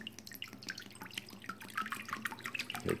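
Water pours into a blender in a close, continuous splashing trickle with bright dripping spatters, heard alone.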